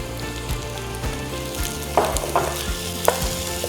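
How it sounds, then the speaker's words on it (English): Sliced garlic and diced bacon frying with onions in a pot for sauerkraut soup: a bright continuous sizzle with sharper crackling bursts and a few clinks and scrapes of stirring, close and moderately loud. "In with sliced garlic and diced bacon"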